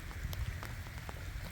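Steady rain falls in cold weather outdoors, a continuous low patter with scattered sharper drop hits, moderate and even throughout.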